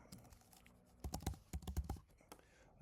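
Keys clack on a computer keyboard while coding, scattered single taps followed by a denser run of quick close keystrokes, then a few more isolated presses, with no talking.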